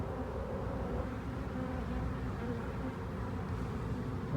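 Killer honey bees buzzing close by during removal of a hive from a house, a dense continuous drone of many insects at steady moderate level without pauses.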